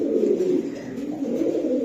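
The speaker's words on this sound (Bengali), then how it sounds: "এটা কিন্তু মাদি কবুতর" Continuous low cooing from a female grey Belgian racer pigeon, steady and close, filling the whole moment without any talk.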